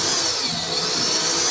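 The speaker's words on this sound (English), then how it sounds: "Make sure you're using a variable drill. It's got to go slow and easy into these." A variable-speed power drill runs steadily while boring a hole for a battery lock installation, giving a continuous broadband whir with a dense high hiss, close and loud across the whole stretch without a pause.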